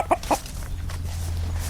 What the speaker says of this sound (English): I don't know what that means in cockerel language.